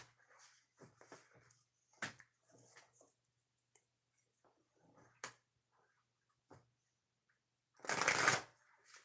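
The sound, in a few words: shuffling tarot cards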